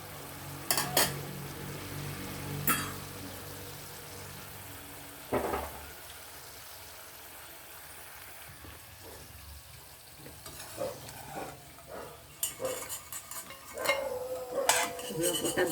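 Sweet potato finger chips fry in hot oil, a steady sizzle running throughout with occasional louder stirring and scraping bursts from a utensil against the pan.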